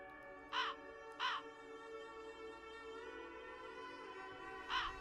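Three harsh crow caws, two close together and one later, ringing over a low droning ambient hum in a dark horror video game.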